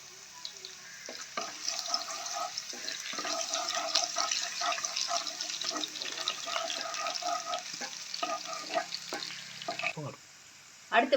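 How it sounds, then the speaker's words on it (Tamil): Crushed garlic cloves sizzle and crackle in hot oil in a pan for a Tamil raw banana fry, a steady close frying hiss with occasional stirring scrapes before it quiets near the end. "எண்ணெய் கொஞ்சம் நல்லா சூடானதுக்கப்புறம் ஒரு 4 பல்லு பூண்டு தட்டி சேர்த்துக்கோங்க"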